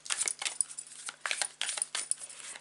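A tarot card deck being shuffled, with a run of quick crisp riffling bursts repeating at an uneven rhythm, close and fairly clear, with no voices.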